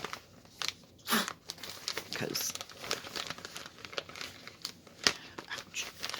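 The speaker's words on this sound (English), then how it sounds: "if I could get it out of the plastic bag, we'll have it made." A plastic bag crinkles and rustles in sharp bursts as a pre-stamped cross stitch kit is pulled from it, close and intermittent, while someone talks over it.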